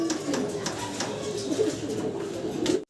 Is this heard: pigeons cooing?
yes